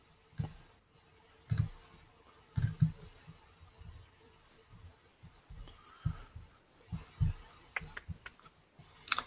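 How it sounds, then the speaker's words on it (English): Irregular clacking keystrokes and thumps from a loud computer keyboard, close and fairly loud, with pauses between bursts and no speech. "the keyboard's so loud"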